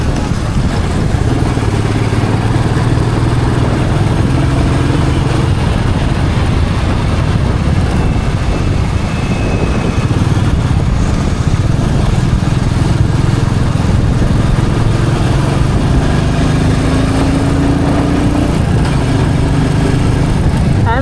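A Royal Enfield Meteor 350 motorcycle rides through Hyderabad at night, its steady engine drone and road rumble loud and continuous, mixed with heavy wind buffeting throughout.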